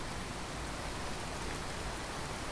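Rain falls steadily during a storm, a dense, even hiss with no breaks, moderately faint and alone without any voices.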